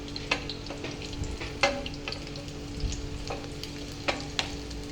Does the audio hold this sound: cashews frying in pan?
yes